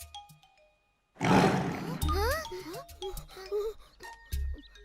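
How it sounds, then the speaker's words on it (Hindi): A cartoon tiger lets out one sudden, loud roar after a moment of near silence, and animated voices talk right after it. "लगता है किसी बाघ की आवाज है"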